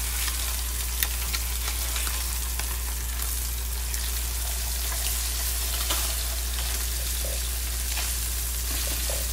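Blackened flounder fillets sizzle and fry in a hot pan, a steady close crackling hiss with small pops throughout and no talking.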